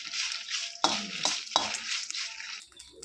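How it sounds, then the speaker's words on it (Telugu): Coriander seeds and dried chilies crackle in a hot pan while a utensil scrapes and clinks against it a few times, close and fairly quiet. "ధనియాలు ఎండుమిర్చి మొత్తం కలిపి ఫ్రై చేసుకోవాలి"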